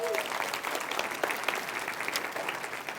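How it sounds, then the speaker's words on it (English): A crowd at a live talk event applauds steadily, a dense even wash of clapping hands that fills the whole stretch, with a hint of voices underneath. "Big round of applause for everybody, please."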